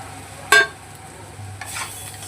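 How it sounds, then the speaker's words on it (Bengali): Potatoes and aubergine cooking in a pan get spices stirred in, opening with one sharp metallic clank of the spoon, then soft scraping over a light sizzle. "এবার সমস্ত মশলা দিয়ে আর এগুলো একসাথে ভালো করে মিশিয়ে নেব"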